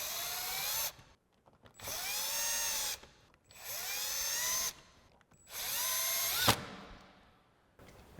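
A power drill with a 7mm socket zips out Mustang bumper bolts in four short whirring bursts, each spinning up and stopping, close and loud with pauses between.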